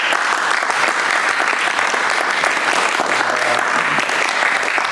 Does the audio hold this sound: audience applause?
yes